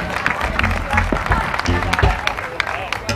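A crowd at an outdoor music festival applauds a band, scattered clapping and cheering heard close by with voices and crowd chatter mixed underneath.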